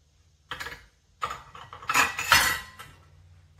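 An idli stand is greased with oil, making a few short metallic clatters and scrapes of utensils up close, spaced irregularly with quiet gaps between.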